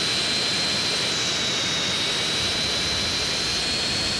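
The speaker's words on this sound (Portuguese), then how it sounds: "eu recomendo o modo jato, tá? Que é esse modo da Hydra que eu tô usando agora" Engine roar of the Hydra military jet in GTA San Andreas, a steady broadband rush with a thin high whine holding level throughout, loud and continuous with no talk.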